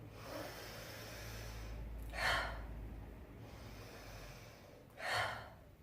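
Two deep breaths are audible as a person lets the shoulders drop during a relaxation exercise for releasing tension. Each is a soft, airy whoosh about three seconds apart, over a quiet, steady background hum.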